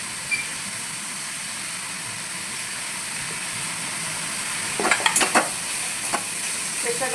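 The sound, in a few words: sautéing onion, ginger, garlic and coconut in pan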